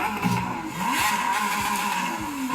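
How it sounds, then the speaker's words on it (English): Lamborghini Aventador SVJ V12 engine revving loudly and close, its pitch sweeping up and down in repeated blips over a dense roar, with no talking. "Rev up your beautiful V12."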